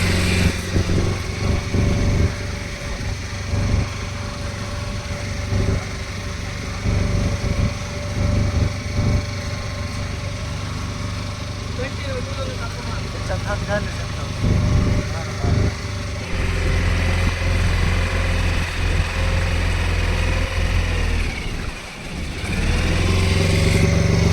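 Boat engine droning steadily throughout a boat ride to an island in Kerala, loud and continuous with wind, and people talking over it.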